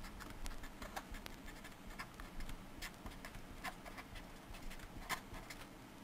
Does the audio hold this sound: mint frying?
no